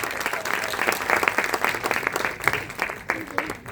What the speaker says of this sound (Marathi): एकदा आमच्या छोट्या वानर सेनेसाठी जोरदार टाळ्या होऊन जाऊ दे